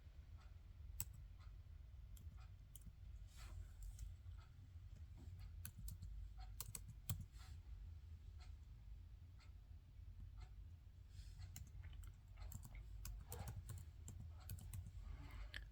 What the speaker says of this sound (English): Let me just type it, reset.